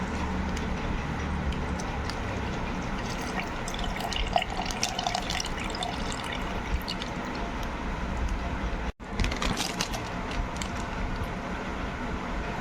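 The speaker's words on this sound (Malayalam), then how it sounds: "ഒരു കപ്പ് മിൽമയുടെ പാല് ആഡ് ചെയ്യണേണ്." Thick, full-fat Milma milk pours into a blender jar for a cashew milkshake, making a steady liquid gurgle and trickle over faint background noise, with a short break before the pour resumes.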